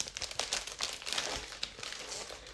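Specialty foiled Flowering Foils paper sheets, 12 by 12, being handled up close, giving a continuous crisp crinkling and rustling with small irregular crackles and no speech.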